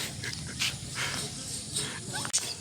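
A dog at a rural family home where chickens, ducks and goats are also kept gives brief whimpering yips and barks amid scattered background noise, with faint voices nearby.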